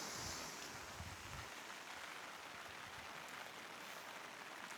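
Calm sea waves wash steadily against a beach in a soft, continuous hiss, with wind buffeting the microphone.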